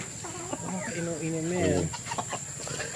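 Hens cluck and warble repeatedly nearby over steady background noise, with a few sharper calls toward the end.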